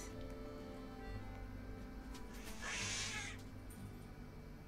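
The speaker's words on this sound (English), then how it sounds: "I've got to feed the cat." A domestic cat meows once at feeding time, a soft mid-length cry over a quiet, humming indoor background, fairly faint and alone.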